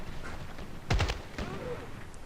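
An assault rifle in Battlefield Play4free fires a quick burst of three or four close, punchy shots, followed by another lone report, set over steady game background noise.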